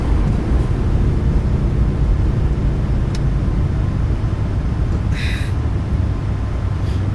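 A Boeing 737 MAX 8 jet rumbles through its takeoff roll in the iFly flight simulator, a steady loud low engine roar with a couple of brief higher blips near the end.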